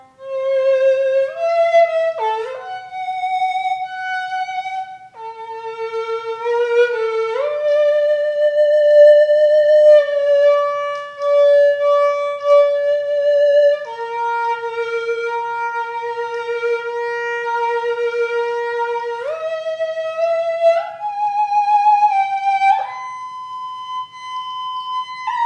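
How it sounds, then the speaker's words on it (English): Bright, buzzy square-wave synthesizer pulse lead plays a sustained melodic line, gliding between held notes with a hollow, reedy edge, loud and alone with no voices. "So a square wave lead."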